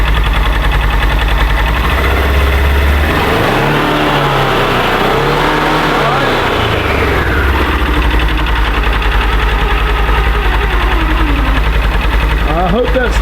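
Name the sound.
side-by-side UTV engine revving in park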